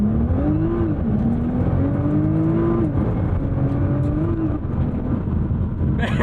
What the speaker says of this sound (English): Let's give you launch control